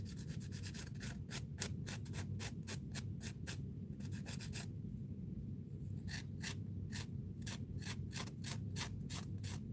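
A fingernail's surface is buffed by hand with a nail file to take off the shine, giving quick rhythmic rasping strokes that repeat steadily and close up, with a short pause partway through and no talking.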